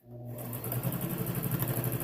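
A sewing machine stitches elastic onto a fabric face mask, its motor whirring steadily with a rapid, even needle clatter that starts after a brief pause and runs close and continuous.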